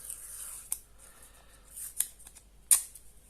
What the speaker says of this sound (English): take a bit of painter's tape, masking tape